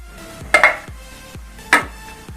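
A metal cake tray set down inside a preheated pressure cooker, giving two sharp clanks with a lighter clatter between them, close and clear, with no talk.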